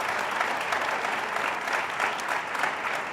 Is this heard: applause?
yes